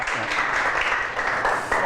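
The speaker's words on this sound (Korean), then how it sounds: "열강을 해주신 정량수 교수님께 다시 한번 큰 박수" Lecture-hall audience at a real estate agent exam law seminar clapping for the professor, a short continuous patter of many hands at moderate volume.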